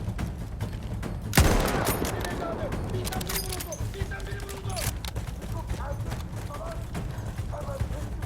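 Gunfire in the video game Seven Pillars of Wisdom: one loud, sharp shot cracks early, followed by scattered fainter reports and clinks amid busy background noise and hoofbeat-like clopping, with a voice heard.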